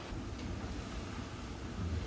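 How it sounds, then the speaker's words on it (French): Strong cyclone wind buffeting the microphone in a steady low rumble with a constant rushing hiss, no voices. "Oh là là, ça souffle fort."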